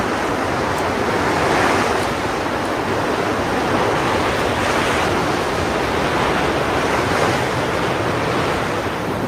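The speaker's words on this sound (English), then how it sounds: "there's a strong wind blowing" Strong wind blowing across an exposed clifftop, a loud, steady roar of gusting air buffeting close by without letup, with no voices.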